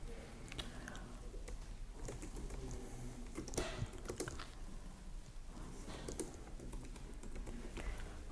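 Computer keyboard keys clatter in quick, uneven bursts as a true-or-false quiz question is typed for an online exam setup, close and steady with brief pauses and no talking.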